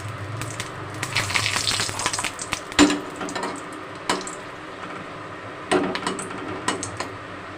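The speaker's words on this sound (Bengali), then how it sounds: "তেলের মধ্যে শুকনো লঙ্কা ভেজে নেব।" Dried red chillies frying in hot oil, a steady close sizzle broken by sharp pops and crackles and occasional utensil clinks.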